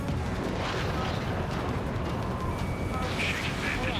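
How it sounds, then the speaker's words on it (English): A roaring missile launch and rumbling blasts in the Ace Combat 7 aerial combat game, a loud continuous wash of jet and explosion noise filling the whole moment with radio chatter over it. "This is Spare 11. Launching missile."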